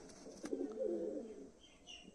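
Soft Giribaz pigeon coos rise and fall in a short low burble, close by and fairly quiet, with a faint chirp at the end.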